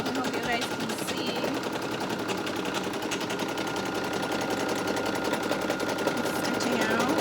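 A Brother SE1900 embroidery machine stitches a design onto a dog collar, a continuous rapid mechanical chatter that holds steady throughout with faint background sounds.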